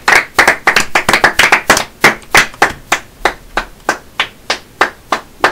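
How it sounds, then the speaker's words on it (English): A small group claps with sharp, distinct hand claps, fast and dense at first, then thinning to slower, steadier claps near the end. "Round of applause, Robert."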